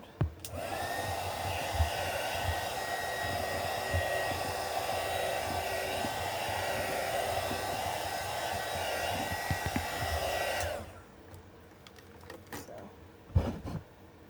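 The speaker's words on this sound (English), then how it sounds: "I love my little heat gun that I got from Temu." A small heat gun from Temu blows a steady, loud whirring hiss while drying a wooden craft box for about ten seconds. It then cuts off, leaving quiet handling knocks and taps.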